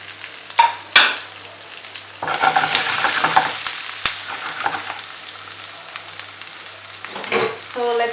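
Garlic, small onions and dried red chillies sauteing with channa dal and asafoetida in a pan for carrot chutney, a steady close sizzle with occasional clanks and scrapes of stirring.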